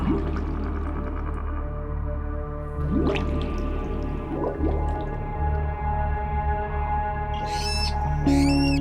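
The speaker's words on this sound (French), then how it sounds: "C'est de ce minuscule guetteur au nom fort approprié de râle d'eau que proviennent ces cris pathétiques." Water rail, a tiny reed-bed bird, giving sharp squealing calls in a wetland, a few bursts around the middle and near the end over a steady low backdrop of other marsh sounds.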